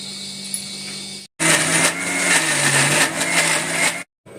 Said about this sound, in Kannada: ಈಗ ರುಬ್ಬೋದಕ್ಕೆ ಅಂತ ಮಿಕ್ಸಿಗೆ ಹಾಕ್ಕೊಂಡು